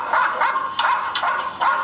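A dog barking about five times in quick, evenly spaced bursts, fairly close and clear, with no talk.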